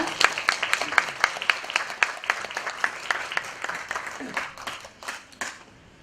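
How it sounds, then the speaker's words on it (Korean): An audience at a Korean speaking event claps for a presenter, a burst of applause that starts strong, thins into scattered claps and fades out within a few seconds. "큰 박수 부탁드리겠습니다."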